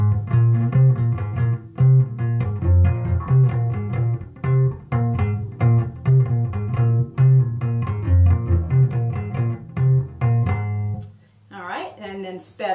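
Slow bass guitar intro line from a trance-style track, a steady run of deep, sustained plucked notes played alone, with a brief burst of a different, busier sound at the very end.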